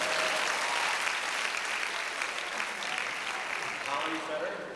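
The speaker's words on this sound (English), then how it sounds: "Tong Thao Duong, Holly Fetcher, he needs a round of applause for that." An audience at a 1990 high school academic awards ceremony applauds in a steady, full wash of clapping that fills the room and fades slightly at the end.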